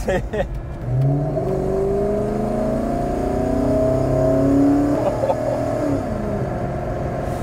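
Volvo 240 fitted with a swapped Lexus 1UZ-FE V8 engine, heard from inside while driving: a steady, rising engine drone that builds and accelerates through most of the stretch, with people talking over it.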